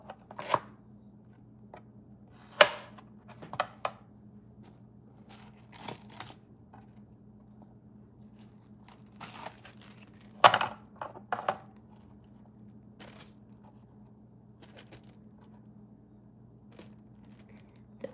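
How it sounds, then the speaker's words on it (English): Apple slices dusted with pepper drop into a bag for apple chips, making scattered crisp taps and light crinkles, loudest in a few sharp bursts, over a quiet low hum. "So I'm gonna be throwing them into the bag here."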